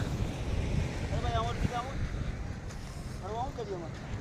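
Wind buffets the microphone over a low rumble of a boat moving on the sea, with voices calling out briefly in the middle and near the end.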